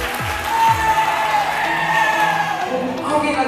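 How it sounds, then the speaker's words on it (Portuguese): An audience at a talk with a Brazilian voice actor bursts into applause, the clapping joined by whoops, shouts and lively voices throughout. "Salve, palmas."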